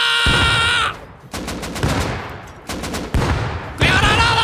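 A grenade goes off in a video game, followed by loud, close gunfire in sharp separate bursts with short gaps between them.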